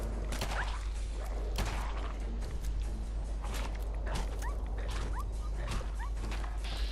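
Dog in the video game Fallout 4 yelping and whimpering while under attack amid constant combat noise, with sharp whooshes and impacts over a loud, steady low rumble.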